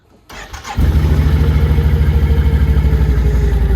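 An ATV quad's engine cranks briefly, catches and settles into a loud, close, steady idle with a rapid pulsing throb.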